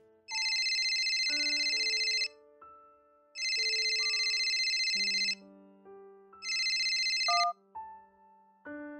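Telephone ringtone for an incoming call, a bright electronic melody heard alone, with three bursts of ringing over a short tune.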